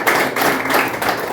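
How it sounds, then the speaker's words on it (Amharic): A prayer-meeting congregation claps for the Lord in a brief burst of dense, continuous applause, moderately loud throughout. "አጨብጭቡ ለጌታ።"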